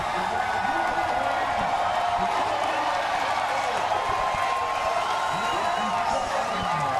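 A NASCAR crowd at the 2022 Ally 400 roars for driver Chase after rain and lightning delays, a steady, broad wash of distant cheering and applause under a commentator's voice.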